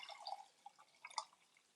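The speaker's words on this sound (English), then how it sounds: "I'm pouring coffee, so hold on." Coffee being poured into a cup gives a faint, quiet trickle with soft drips and small splashes scattered through the pour.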